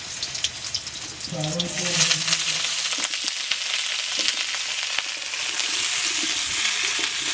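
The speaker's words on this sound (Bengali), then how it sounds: "কড়াই দিলাম তুলে সরষের তেলে সবজিগুলো ভালো করে ভেজে দিয়ে দেবো" Vegetables fry in mustard oil in a wok. A steady hiss rises into a louder, crackling sizzle with sharp pops and spoon scrapes, and a voice is heard briefly early on.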